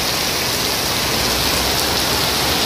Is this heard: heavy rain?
yes